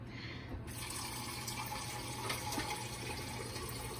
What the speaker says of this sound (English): I gotta add just a hair of water.